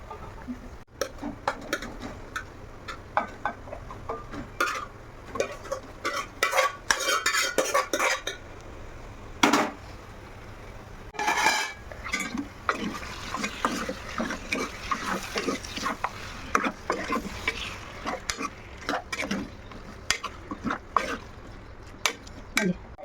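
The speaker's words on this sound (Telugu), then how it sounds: "కొంచెం హై ఫ్లేమ్ పెడదాం వేసుకో కొంచెం చాలా ముందుగా మ్యారినేట్ చేసుకున్న చికెన్ అయితే ఇప్పుడు వేసుకుందాం" Marinated chicken frying on high flame in a pan, irregular spatula scrapes and metal clatter over a low sizzle, with occasional background noises throughout.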